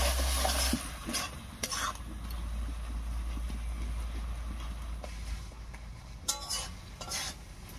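Tomatoes and dried fish cooking down in a pan, a soft steady sizzle with scraping stir strokes and occasional sharp clinks of the utensil against the pan.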